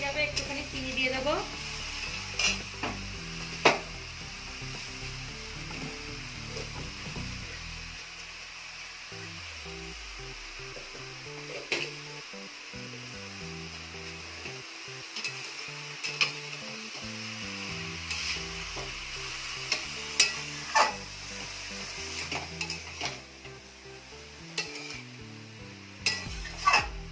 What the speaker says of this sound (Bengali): শাক নাড়তে নাড়তে শাক দিয়ে জল বেরিয়ে যাবে